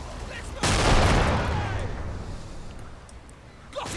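Gunfire in the World War II strategy game Men of War: Assault Squad, a sudden loud burst of shooting that hits hard and then decays into a fading rumble, followed by another sharp report near the end.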